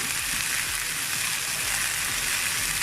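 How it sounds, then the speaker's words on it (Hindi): Peas and green chillies frying in a pan, a steady dense sizzle and crackle, close and even throughout with no voices. "इसे थोड़ी देर फ्राई कर लेंगे ताकि हमारे मटर सॉफ्ट हो जाए।"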